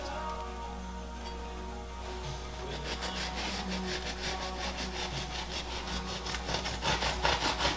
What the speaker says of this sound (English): So I'm gonna go ahead and cut a piece for you guys.